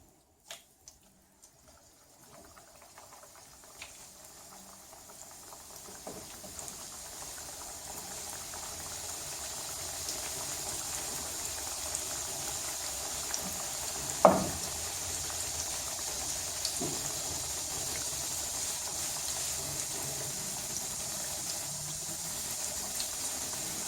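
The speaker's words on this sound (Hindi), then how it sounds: "अब इनको फ्राई कर लेते हैं।" Khaja pastries frying in moderately hot oil give a steady, soft bubbling that builds gradually and continues alone throughout, with one brief sharper knock midway.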